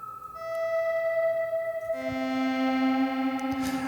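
A synth patch from the Sakura plugin in FL Studio plays sustained, bright, harmonically rich tones that shift to a lower held note partway through, fairly faint and alone with no voices.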